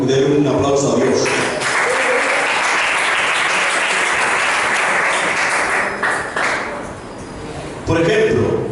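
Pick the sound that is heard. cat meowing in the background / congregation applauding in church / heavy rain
congregation applauding in church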